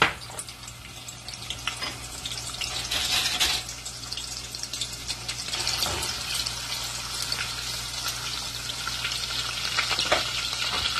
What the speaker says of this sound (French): Donc j'ai mis mon huile au feu, je vais essayer de voir ça. Je pense que c'est chaud. Donc j'ajoute l'oignon et puis l'ail que j'ai découpé.